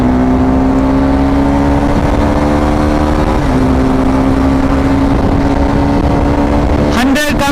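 A Suzuki Gixxer 250 SF motorcycle engine revs hard in first gear at high RPM, past 8,000, with a steady, loud whine that holds, then dips briefly and climbs again near the end.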